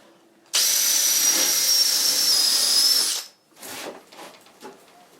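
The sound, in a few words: power drill drilling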